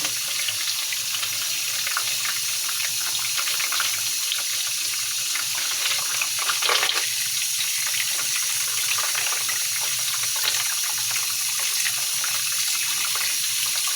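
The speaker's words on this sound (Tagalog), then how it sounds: "Hugasan natin maigi kasi kahit wala siyang dumi kasi nasa puno" Freshly picked produce is rinsed under a running tap, a steady close gush of water splashing into a sink for the whole stretch, with faint handling noises and no talking.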